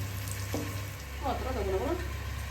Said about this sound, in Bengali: প্রথমে রসুন দিয়ে দিয়েছি দিয়ে কাঁচা লঙ্কা